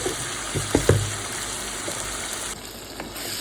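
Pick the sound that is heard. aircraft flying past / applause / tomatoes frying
tomatoes frying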